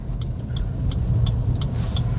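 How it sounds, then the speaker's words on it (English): Maruti Suzuki Grand Vitara strong hybrid SUV pulling away, a steady low rumble heard from inside the cabin with a faint regular ticking over it, no voices. "We get immediate acceleration while driving on initial stage."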